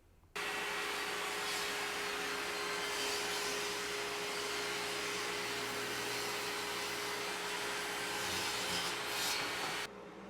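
A Skil TS6307-00 table saw runs through a cut in 3/4-inch plywood, a steady loud whine with broadband blade noise holding for about ten seconds before cutting off.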